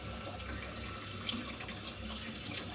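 Water running from a tap while testing hot water on an Ideal boiler with a burner fault, a steady close hiss of flowing water into a sink with no talk.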